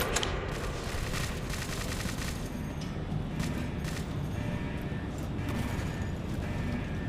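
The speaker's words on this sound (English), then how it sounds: "There they are! Shoot to kill!" Sustained gunfire from a WW2 video game battle, dense bursts and booms filling the whole stretch at steady loudness with no clear pauses.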